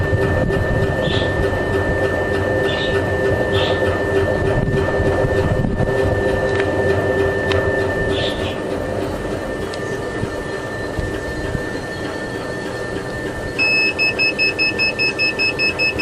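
An automatic honey extractor spinning combs hums steadily with a constant whine, then near the end a repeated electronic warning beep sounds as it signals it is stopping; no talk.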